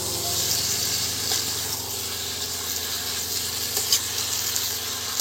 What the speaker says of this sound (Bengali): ভেজে রাখা আলুগুলো আমি দিয়ে দিচ্ছি, দিয়ে আরও একটু বেশ কিছুক্ষণ আমি কষে নেব।